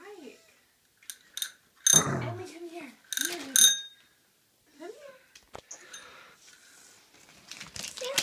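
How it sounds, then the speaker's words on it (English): A small bicycle bell is rung in a few bright, ringing bursts amid household noise, with children and adults talking around it at a family Christmas gathering indoors. "I think that's a little bell for your bike."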